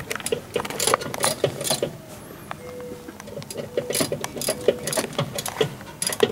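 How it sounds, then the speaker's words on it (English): A regular wrench turning bolts on a small-block Chevy engine build, giving rapid ratcheting clicks in uneven bursts, close and fairly quiet over light workshop noise. "You grab a regular wrench."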